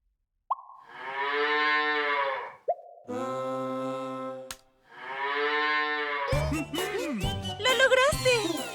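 A cow moos in two long, loud, close calls separated by a buzzy tone, followed by a lively burst of bright music.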